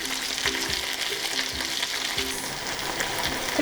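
Chicken for Korean spicy chicken sizzles and crackles in a frying pan, a steady close hiss with a few soft scraping taps.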